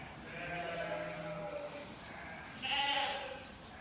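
Newborn lambs bleat in a lambing pen, one long cry answered by a louder, higher bleat near the end, close by against a low barn hum.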